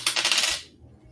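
Dice rolling and rattling during a tabletop role-playing session, a short bright clatter of several quick clicks over about half a second that cuts off into near silence, with no talking.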